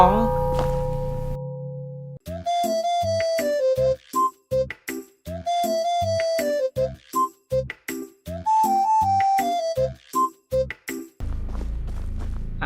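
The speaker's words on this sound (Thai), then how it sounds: "มีเสียงเป่า เป่าผิวปากไปมา" Melodic whistling from a robot in a horror video game, a bright tune bouncing up and down in short repeated phrases, loud and close, with no talking over it.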